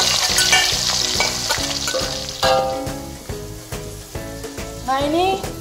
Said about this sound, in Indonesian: Bawang merah sama bawang putih yang tadi kita iris-iris digoreng.